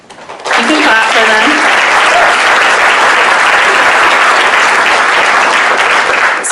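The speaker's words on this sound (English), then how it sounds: "You can clap for" Audience applause at a community event on Providence's housing crisis, a loud, dense burst of clapping that starts after a brief bit of talk and carries on steadily to the end.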